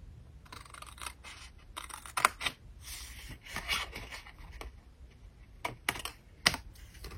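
Scissors cutting folded paper at the first crease, a series of crisp snips and paper rustles, close and moderately loud, with no talk.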